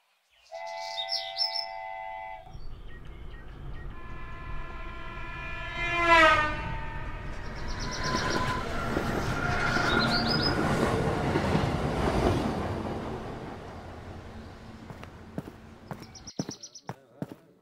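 A train horn sounds in a long blast before the rumbling, clattering approach of a train arriving at a station, building and slowly fading, with birds chirping in the background.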